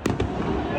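Fireworks launching close by at a display site, a couple of sharp pops at the start followed by a rumbling, crackling wash that continues to the end, with a voice talking over it.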